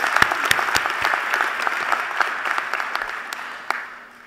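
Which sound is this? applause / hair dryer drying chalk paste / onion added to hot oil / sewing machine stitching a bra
applause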